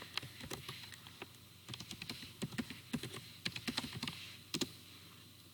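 Typing on a computer keyboard while entering gradebook category weights: irregular bursts of crisp, close key taps with short pauses, no voices.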